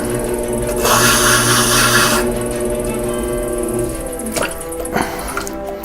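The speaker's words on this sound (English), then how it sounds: "I'm going to once again go to the bottom and do a slight trim" A trimming tool scrapes the bottom of centered clay spinning on a pottery wheel, a steady rubbing hiss over the wheel's tonal motor hum, loudest for a second or so before easing into softer continuous turning.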